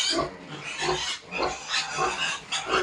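Pigs on a pig farm grunting and squealing repeatedly in a dense, overlapping chorus at close range, several bursts in quick succession with no talk.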